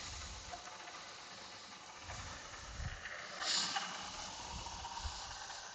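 A 2000 GMC Yukon with a 5.3 LS V8 and Whipple supercharger idling with a strange noise, a steady faint engine hum with soft irregular knocks and a brief hiss partway through.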